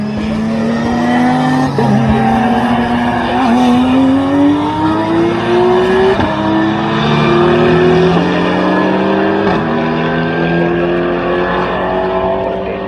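An Audi race car at Snetterton circuit, during a British Truck Racing Championships and Classic Touring Cars meeting, roars loudly and close as its engine climbs and shifts through gears in long rising pulls, with tyres squealing under the steady engine noise.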